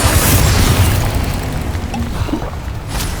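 A Bombarda blast spell from Hogwarts Legacy, erupting in a loud booming explosion that rumbles deep and then trails off into a noisy decay over a few seconds, with no voices.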